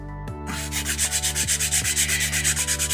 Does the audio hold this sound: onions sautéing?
no